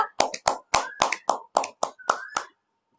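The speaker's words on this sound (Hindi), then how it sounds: "तो उनका जोरदार तालियां, आप सभी तालियां बजाइए।" About ten distinct hand claps in a quick, slightly uneven rhythm, close and crisp, ending abruptly in silence, as if from a small online gathering announcing a public speaking competition result.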